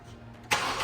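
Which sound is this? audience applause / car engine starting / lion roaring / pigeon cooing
car engine starting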